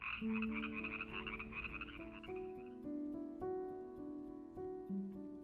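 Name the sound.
frogs croaking in park wetlands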